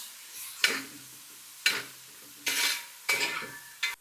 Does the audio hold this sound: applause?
no